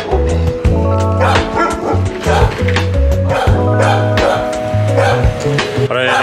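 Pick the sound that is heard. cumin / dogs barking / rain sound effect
dogs barking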